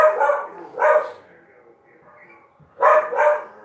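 A dog barks in short bursts, a pair near the start and another pair after a pause, loud and close.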